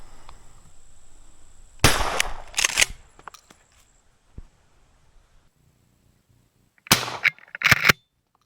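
Two sharp, loud blasts from a 12 gauge pump action shotgun fired at a squirrel in the woods, each followed by metallic clacks of the pump action, with quiet ambient stillness between.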